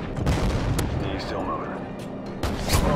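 AC-130 gunship firing in the Modern Warfare 2 game on the Estate map, a run of heavy booming blasts and sharp cannon bursts over dense game noise, with a voice talking throughout.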